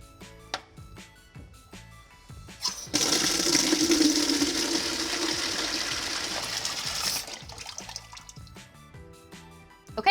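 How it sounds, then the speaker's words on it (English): Delta pot filler faucet opened to full flow, a loud steady gush of running water that starts after a few clicks and continues for several seconds before cutting off. "Go ahead and turn both of these on to the full position and let it run for about 30 seconds."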